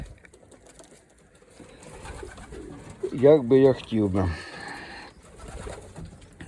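Pigeons coo in a short burst of throaty, warbling calls close by, set against a quiet background, while someone speaks briefly.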